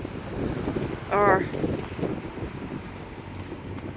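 Gusty wind buffets a sailing boat under way off the coast between Minehead and Ram's Head, a steady roar of wind noise over the microphone with water wash beneath and a brief voice partway through.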